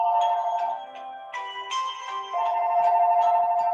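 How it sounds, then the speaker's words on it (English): A mobile phone ringtone plays a bright, looping electronic melody of distinct tonal notes, close and steady throughout with no voices over it. "Yeah, that's my phone."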